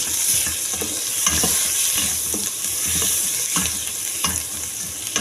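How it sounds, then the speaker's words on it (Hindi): Ginger and garlic fry in butter in a pot, a loud, close, continuous sizzle broken by stirring scrapes and light utensil taps, without speech. "इसमें हम अदरक और लहसुन डाल के हल्का सा फ्राई करेंगे।"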